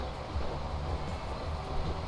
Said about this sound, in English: it just went past a steam train